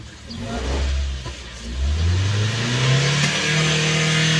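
A Ford EcoSport engine, just repaired for a rich-running oxygen sensor fault, revs up from a low idle into a rising, sustained drone, loud and close.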